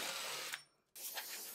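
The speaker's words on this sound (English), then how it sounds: "I used an even larger drill bit." A power drill with a large bit bores through a metal footplate for a 7¼-inch gauge locomotive, a close steady grinding whir that stops briefly and then resumes.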